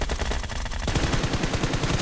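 Rapid automatic gunfire in a team shooting video game, loud and close, a fast even stream of shots that grows more distinct partway through, with no voices.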